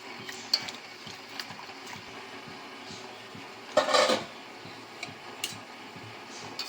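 Potato chips stirred in a pan, with a few light metallic scrapes and clinks of a spoon against the pan and one louder scraping burst near the middle, close by.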